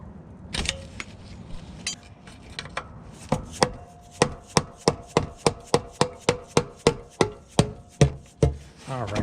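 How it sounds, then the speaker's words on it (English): A pry bar working a car oil pan loose during an oil pan gasket replacement, producing a rapid series of sharp metallic knocks and clicks, evenly spaced and close, after a few scattered clanks. "I should be able to just get underneath the pan here and start prying it loose"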